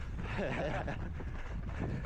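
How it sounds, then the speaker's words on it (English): Steady low rumbling wind buffeting the microphone during a half marathon in Southend, continuous and fairly loud. "Very windy today"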